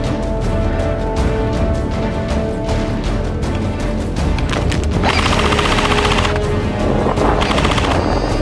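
Airsoft guns fire during an outdoor game, loud rapid bursts of plastic BB shots crackling and rattling continuously, with a denser volley partway through.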